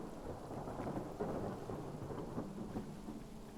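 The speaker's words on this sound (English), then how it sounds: "Not a fan of this thunderstorm." A thunderstorm in the game Hytale: steady heavy rain with low rolling thunder rumbling throughout, moderately loud, with no talk over it.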